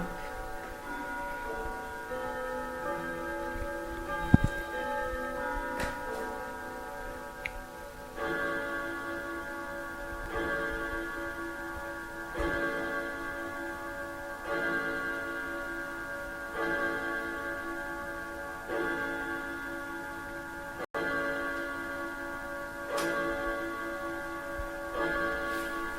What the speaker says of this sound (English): Beautiful grandfather clock going off.